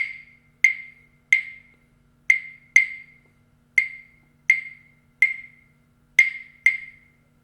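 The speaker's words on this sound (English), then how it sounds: "Ooh, claves, or rhythm sticks." Wooden claves, or rhythm sticks, are struck together in ten crisp, sharp clicks at an irregular pace, loud and close, each dying away quickly into silence.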